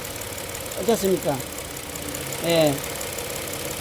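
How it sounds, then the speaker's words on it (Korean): Idling car engine running roughly with the ignition coil disconnected, a steady low shaky rumble under a voice talking. "자, 시동을 걸었어요."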